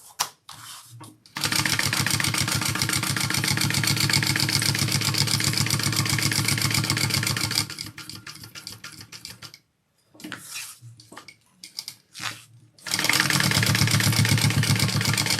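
A domestic sewing machine stitches a wallet's slip pocket onto the back of its card slots, running in long steady bursts of rapid mechanical clatter with short pauses between runs.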